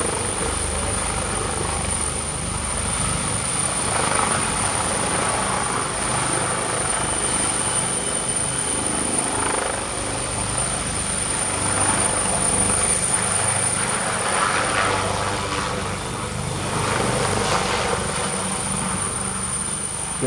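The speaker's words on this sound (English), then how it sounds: "came in the form of a maneuver display by one of the Air Guard helicopters" An Air Guard helicopter's rotor drones steadily throughout a maneuver display, loud and continuous, with rising and falling pulses as it moves around overhead.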